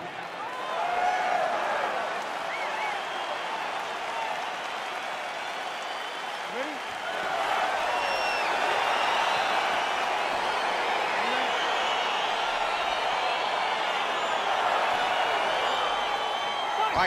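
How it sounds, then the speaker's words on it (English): A steady, dense arena crowd cheers and applauds at a fight in EA Sports UFC 4, a continuous roar that swells after a few seconds with scattered whoops, under talk. "crowd getting excited as this fight gets underway"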